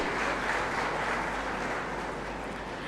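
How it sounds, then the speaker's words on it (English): Steady, dense applause from a crowd fills the space evenly, a continuous wash of clapping without any speech. "A huge round of applause for our invited guests, please."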